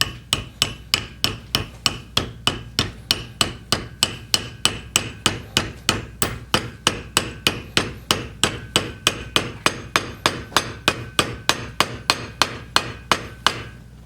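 Steady hammer taps drive a wooden wedge into the handle of a hand-forged hatchet, some forty crisp, evenly spaced light blows in a continuous rhythm, close and alone with no talk.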